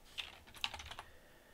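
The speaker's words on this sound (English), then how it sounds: "once you start typing in the word developer" Soft, quiet keystrokes on a computer keyboard under Windows 10, a brief irregular run of taps with a couple of sharper clicks, no talking.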